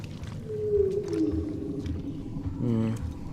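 Alien creature in the survival horror game Alien: Isolation roaring with a long descending growl and a second rumbling cry near the end, over low stomping rumble and game ambience, with someone talking faintly underneath.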